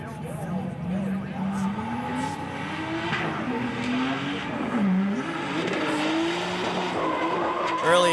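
Drift cars at a street league event, including a turbo BMW E46, howl through long sweeping tire squeals and revving engines, loud and continuous with pitch rising and falling as they slide. Commentary runs over the top.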